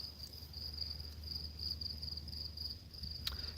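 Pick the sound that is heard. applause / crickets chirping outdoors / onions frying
crickets chirping outdoors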